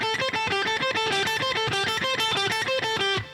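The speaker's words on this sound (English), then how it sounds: "If I did that without the hammer-on and pull-off, it would be like this" Distorted electric guitar lick with every note picked separately, an even, rapid stream of articulated attacks, close and loud throughout, no voice over it.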